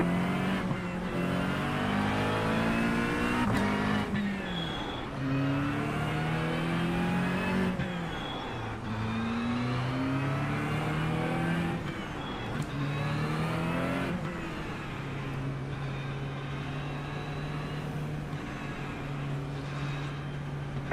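Multiple race car engines rev, shift and roar continuously through a video game race, with rising and falling pitch sweeps as cars accelerate and pass, loud and dense throughout.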